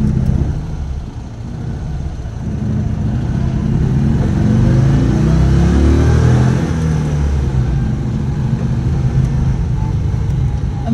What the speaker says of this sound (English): 600cc flat twin engines. They're unburstable.